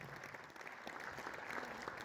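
Steady audience applause at a stage event fills the whole stretch, a dense even wash of many hands clapping, heard from a moderate distance at fairly low level.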